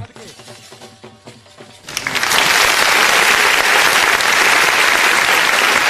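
A large crowd at a kabaddi cup match in Noor Mahal, Toba Tek Singh, Pakistan breaks into loud, dense applause that starts abruptly and holds steady. Before it, a voice speaks over a loudspeaker.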